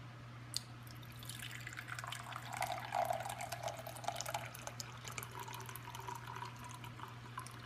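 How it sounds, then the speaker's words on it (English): Gyokuro tea from a Breville tea maker trickles and splashes softly into a cup, a gentle steady pour with faint drips over a low background hum. "I'm gonna pour my first cup of tea"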